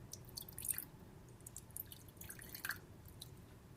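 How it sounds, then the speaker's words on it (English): Liquid dripping from a shaken bottle in a home kitchen: faint, scattered wet drips and small splats over a quiet background hum, irregular and close-up. "Now that I've shaken the bottle, it's going to drip everywhere."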